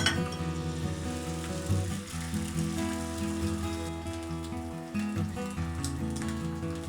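An egg frying in butter in a pan gives a loud, continuous sizzle and crackle heard up close, with steady spattering and no talk.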